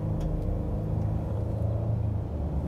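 A 2021 Ford F-150 King Ranch pickup accelerates on a short drive, its engine a steady low rumble and whir heard from inside the cab, even and moderately loud throughout with no talking.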